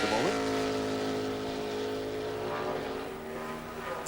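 NASCAR race car coming off the corner at Daytona during Speedweeks 2000, a loud engine roar with a falling whine as it sweeps past, blended with crowd and track noise.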